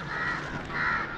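A crow caws twice in loud, harsh, drawn-out calls close by, with a short gap between them and no voices.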